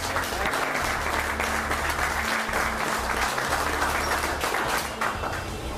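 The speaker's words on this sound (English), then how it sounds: "So how about a big round of applause?" Sustained applause from a crowd at a car detailing festival, steady and dense clapping filling the space for several seconds, fading slightly at the end.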